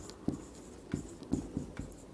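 A pen writes out a geometry statement about parallelogram diagonals bisecting each other on a Class 10 coordinate geometry worksheet. Short, scratchy strokes and taps come in quick succession, close and clear, with no talking.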